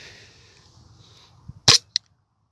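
Airsoft pistol firing BBs into a PETG plastic test piece: a few faint ticks, then one sharp loud snap and a smaller crack shortly after, against near silence.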